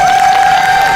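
A one-second burst of audience applause at a fursuit exhibition stage show at the Anthro Northwest 6 convention in 2024, loud and dense, with a steady high tone held over the clapping.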